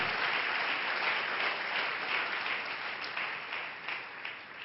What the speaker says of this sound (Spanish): Denle ese aplauso a la gloria del Señor.